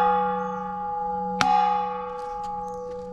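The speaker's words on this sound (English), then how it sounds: "Let's ring the bell" A temple bell at Wat Doi Kong Mu in Mae Hong Son struck once with a stick, giving a bright clang over an already ringing tone that then hums on with long, sustained, steady partials.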